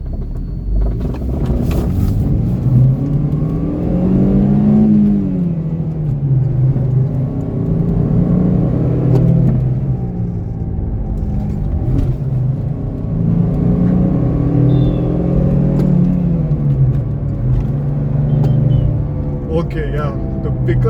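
An 8th-generation Honda Civic with a VTEC petrol engine accelerates after a U-turn, its engine droning and rising in pitch through several surges from inside the cabin, while someone talks over it.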